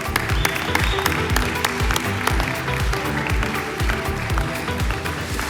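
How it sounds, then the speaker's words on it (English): An audience at a digital health awards finale applauds a group, a dense and steady wash of clapping that stays loud and continuous throughout, with faint crowd murmur underneath. "let's hear applause, yeah, for the group"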